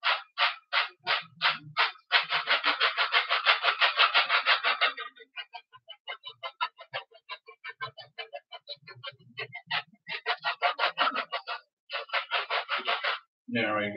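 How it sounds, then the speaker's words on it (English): Italian seasonings and oregano being cranked through a spice grinder, a close, dry rhythmic rasping in quick bursts with a long continuous stretch and brief pauses between turns. "Some Italian seasonings in a grinder."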